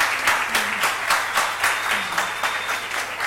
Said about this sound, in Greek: Ένα θερμό χειροκρότημα να μας ακούσουν σε όλη την Ελλάδα